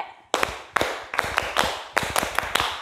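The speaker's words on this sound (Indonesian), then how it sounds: "Tepuk GP." A group at a GPIB youth worship service performs a rhythmic clap chant, sharp hand claps in short patterned bursts with brief pauses between phrases, close and fairly loud.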